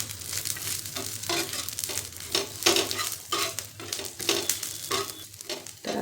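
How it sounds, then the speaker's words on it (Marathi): Garlic, ginger and sesame seeds dry-roasting in a pan, heard as a soft rhythmic series of scraping stirs with light crackle between strokes, fairly quiet and close, with no voices. "लसूण पण आपल्याला थोडंसं भाजून घ्यायचं आहे यामध्ये।"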